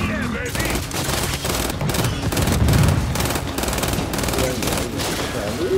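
Dense, continuous rapid gunfire in the Gears 5 video game, loud automatic bursts rattling without pause over several seconds, with players' voices mixed in beneath the shooting.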